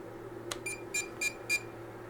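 A Seesii 16 line laser level gives a short series of five high electronic beeps, evenly spaced and close, as it self-levels over a low steady hum.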